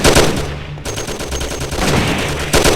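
Gunfire in the Mafia crime video game during a bloody deal: a sustained burst of loud, rapid shots, briefly cut off midway and then resuming, with a final louder burst near the end.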